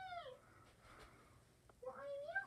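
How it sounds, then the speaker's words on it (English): A pet cat meows twice indoors, one call at the start and another near the end, with faint room noise between them. "Why are you meowing?"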